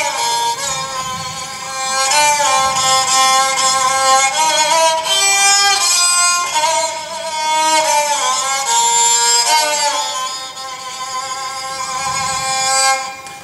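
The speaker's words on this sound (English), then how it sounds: "is the sound from the 3D printed resonator." An instrument fitted with a 3D printed resonator plays a loud, continuous melodic line with bending, gliding pitches and rich overtones for over ten seconds, heard alone without speech.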